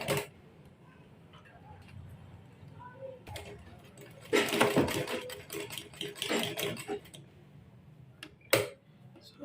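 Sewing machine topstitching a corset blouse at a low level, a soft steady ticking hum with louder bursts of clatter and handling noise in the middle and near the end.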